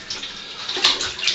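Water splashes and sloshes as hide being tanned into leather is squeezed, stretched and rinsed of loose tannins, a close, bright run of watery swishes and small splashes without any voices.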